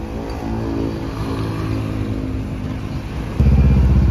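A PO Sudiro Tunggajaya bus pulling out of an Indonesian bus terminal, its engine droning steadily nearby before a louder, deeper rumble swells in near the end.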